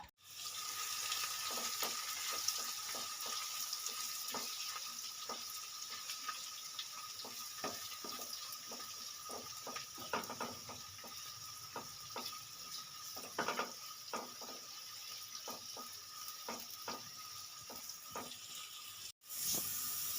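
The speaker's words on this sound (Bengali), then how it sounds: "এই পেঁয়াজটা আমি সুন্দর করে লাল লাল করে ভেজে তুলে নেব" Thinly sliced onions fry in mustard oil in a wok, giving a steady bright sizzle with scattered crackles and stirring clicks for about twenty seconds, close and alone with no talk.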